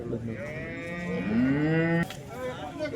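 A cow at a cow and heifer market in Modnimb lows in one long, loud, rising moo, with lighter market background noise after it ends.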